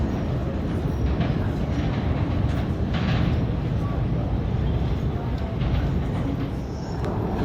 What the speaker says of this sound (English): The M train going to Forest Hills, 71st Avenue